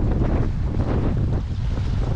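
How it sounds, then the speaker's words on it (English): Strong wind buffeting the microphone while canoeing down a river, a loud continuous rumbling roar with no voices. "What a wind."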